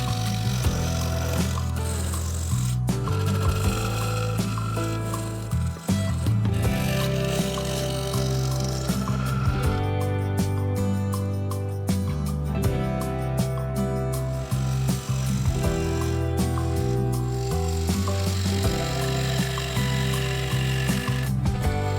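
A wood lathe turns a yew vase while a carbide tool cuts into resin and timber, giving a continuous loud scraping and whirring with shifting tones and no speech.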